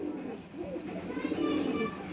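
Pigeons cooing, a Rampuri and Teddy cross bird, with soft low coos repeating steadily through the short stretch, close by, alongside faint rustling and a murmur of background voices.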